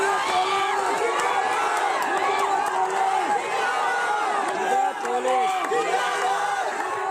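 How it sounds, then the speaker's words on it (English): A large outdoor crowd of hundreds of people cheers and shouts continuously, with overlapping voices, whoops and yells forming a dense, loud wall of sound throughout. "All this is happening in the presence of hundreds of people standing and cheering the police's action."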